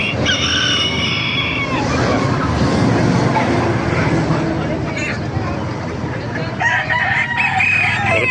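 Roosters crow loudly and repeatedly over clucking chickens at a poultry market in Baliuag, Bulacan, with people talking in the background amid a busy, noisy setting.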